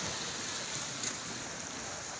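Sea surf washing steadily onto a beach at midday while the tide is still high, a continuous broadband wash of breaking waves with wind noise on the microphone and no voices.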